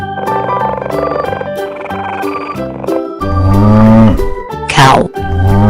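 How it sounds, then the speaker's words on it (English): A cow moos loudly over bright cartoon-style music in an animal train song for kids, one long low call rising and falling near the middle, with a quick squeaky effect just after. "Cow."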